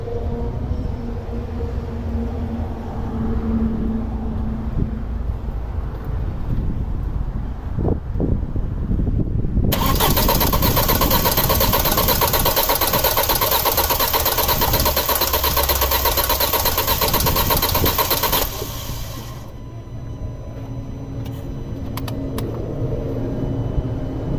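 A 2006 Audi A4 2.0T with a misfire fault cranks and starts. A steady churning runs for about ten seconds, then a loud broadband roar holds for roughly nine seconds and drops back to a lower running sound.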